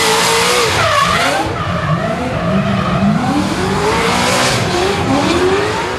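Pro championship drift cars at the Baypark drift course in Tauranga scream through slides with squealing tyres and revving engines, loud and sustained, the pitch rising and falling with each pass.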